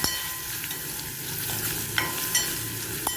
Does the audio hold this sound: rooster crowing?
no